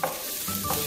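Noodles and garlic stirred in a pan, a close scraping stir with soft sizzling underneath, lasting under a second and sounding alone.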